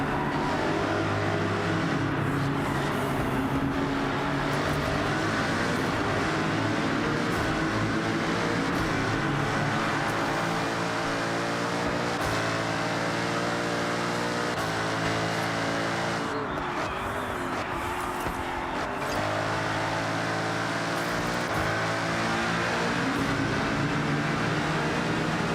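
A race car in the video game Forza Horizon 6 keeps up a loud, steady engine drone, its pitch climbing and dropping through repeated gear shifts with a 10-speed gearbox over a long run, and no one speaks.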